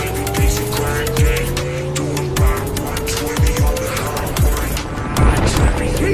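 A McLaren Senna accelerates hard, its loud engine note sweeping up through the gears with sharp shift drops, close by and dominating over faint background noise.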